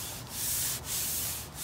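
A sanding block rubs back and forth over filler and paint on the body of a 1967 VW Beetle, close, loud, steady strokes with about three brief pauses at each change of direction.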